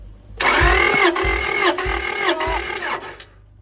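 A Honda engine, sitting unused for 16 years, cranks over loudly and close with a steady starter whine and four rhythmic compression pulses without catching, then winds down to quiet.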